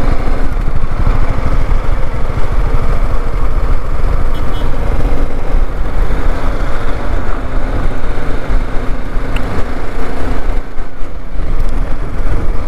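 An auto rickshaw engine runs steadily and loudly throughout a ride through Jayanti forest, a constant close mid-pitched putter with no pauses.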